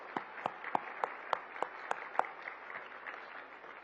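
Thin applause from a conference audience at a hospitality and tourism summit: about eight distinct, separate claps in a loose rhythm that fade into a quiet room hum, faint and distant.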